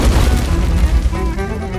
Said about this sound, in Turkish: Top atışları olacak.